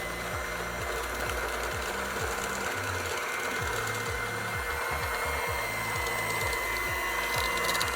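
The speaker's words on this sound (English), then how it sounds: "I wanted a watermelon colored hand mixer" A watermelon-colored electric hand mixer runs with a steady, close motor whir and a rapid rhythmic chatter of beaters against the bowl, continuous for the whole stretch with no voices.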